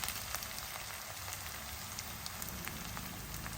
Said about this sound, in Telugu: ఉల్లిపాయలు చక్కగా వేగుతున్నాయి కదా